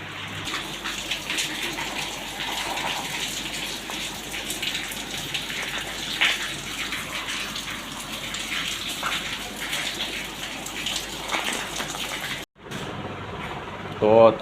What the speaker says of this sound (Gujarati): થઈ ગયો વરસાદ ચાલુ